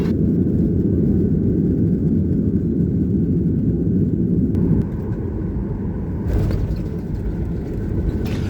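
Steady loud cabin rumble of an airplane in flight, a continuous broad engine drone that dips slightly partway through and carries on without voices.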